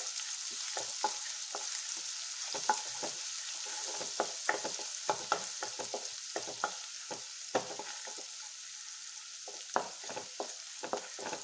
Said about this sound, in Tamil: இந்த ரோஸ் ஸ்மெல் போகிற அளவுக்கு வணக்கி விட்டுருங்க